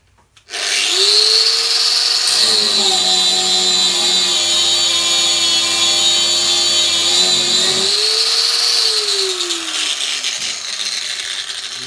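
A Metabo cordless angle grinder set to fourth speed spins up sharply and holds a loud, steady high whine, its pitch dipping under load in the middle before rising again as it runs on alone, close by.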